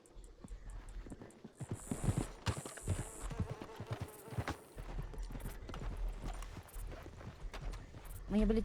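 Horse hooves clip-clopping in a Red Dead-style western roleplay game, rhythmic galloping footfalls at close range with occasional neighs, under ongoing voice chat from players.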